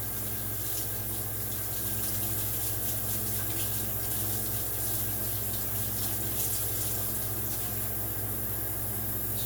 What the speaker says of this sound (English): next we're going to wash the knife so no one gets injured